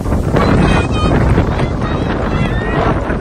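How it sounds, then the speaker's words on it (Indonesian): Strong wind outdoors in Korea buffets a microphone, making a loud, constant low roar and rumble that never lets up. "Wah, ini anginnya kencang banget nih."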